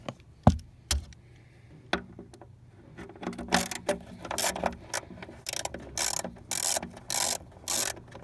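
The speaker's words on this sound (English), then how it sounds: "Go ahead and remove the bolt that holds down the clamp." A 13mm socket ratchet loosens the battery hold-down clamp bolt on a 2007-or-later GMC Acadia, Chevrolet Traverse or Buick Enclave. After a few scattered knocks, close, steady ratcheting clicks repeat in a brisk rhythm.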